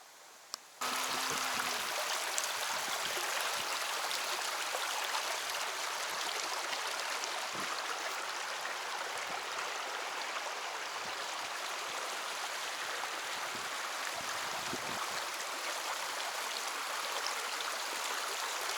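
Creek water in Australia rushes and trickles in a steady, even wash that fills the scene, close by and unbroken, with no voices over it.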